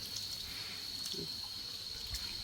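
Water runs steadily from a tap while food is being washed, a faint, even flow with a few soft splashes, close by and without talk.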